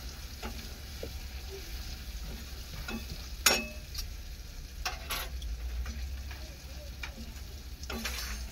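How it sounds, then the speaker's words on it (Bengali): Spices (masala) fry and are stirred in a pan, a steady close sizzle with scattered clicks and scrapes of the utensil against the pan, and no talk. "মশলা কষানো হয়ে গেছে।"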